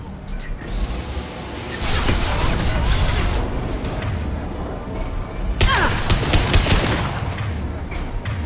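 Gunfire in the video game Mass Effect 2 Legendary Edition, loud sustained volleys of shots and booms with denser bursts toward the middle and end, mixed with voices.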